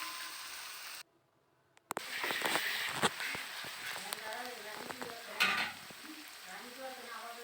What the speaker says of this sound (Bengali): এখন কিছুটা পেঁয়াজ কলি আর পেঁয়াজ দিয়ে হালকা ভেজে নিব।